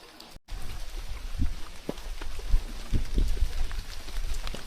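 Monsoon rain falls during a trek at Ghangad Fort in the Sahyadri hills. Soft, scattered drops patter on nearby surfaces over a quiet, damp background, with a brief dropout near the start.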